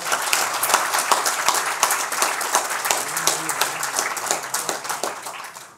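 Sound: applause in memory of a deceased man

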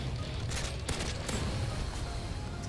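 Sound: M14 rifle gunfire in a Call of Duty video game

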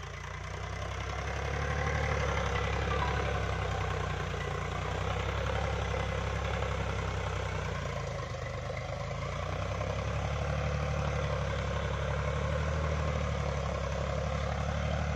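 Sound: Powertrac tractor engine running

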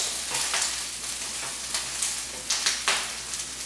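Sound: shrimp shells sizzling in olive oil

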